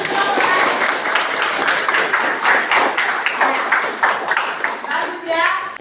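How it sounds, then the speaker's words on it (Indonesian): Pupils in a classroom applaud after a group presentation, a burst of dense, fairly loud clapping that runs throughout, with children's voices chattering underneath. "Ya, tepuk tangan dulu."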